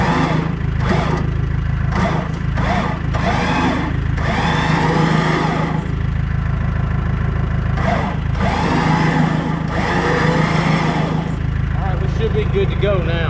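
An electric winch runs in short bumps outdoors while working a food plot, its motor whine rising and dropping under steady nearby conversation.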